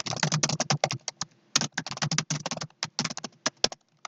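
Rapid, steady typing on a computer keyboard while a T-SQL create statement is written, close and clear, with bursts of keystrokes and brief pauses, no voices.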